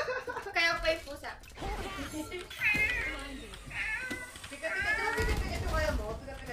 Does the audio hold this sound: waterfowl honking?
no